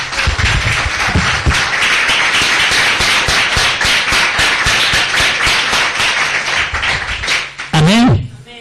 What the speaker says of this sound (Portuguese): Então vamos dar uma salva de palmas bonita para ele.